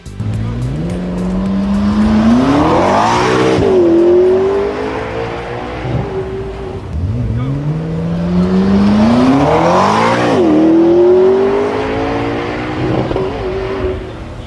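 A sports car engine in Need for Speed No Limits revs up twice in long rising sweeps, each climbing to a high-pitched scream, with tire noise beneath. It is loud and close, with no talk.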